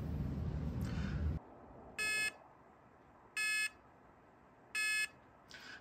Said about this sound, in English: we get this 3-beep code